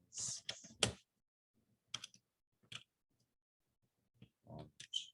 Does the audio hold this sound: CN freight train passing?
no